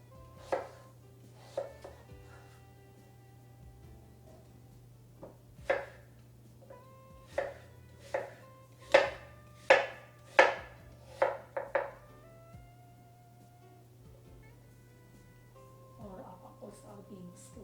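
A knife slices apples into quarter-inch slices on a board, a run of about a dozen crisp, evenly spaced cuts over a low background hum, with a few softer handling knocks at the end.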